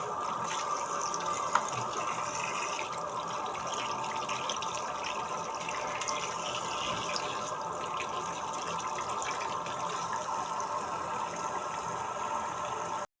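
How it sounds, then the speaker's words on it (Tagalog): Tap water runs steadily over about five kilos of raw chicken feet being rinsed in a sink, a continuous, fairly loud splashing rush with no talking. "I-rinse ko ulit ng tubig."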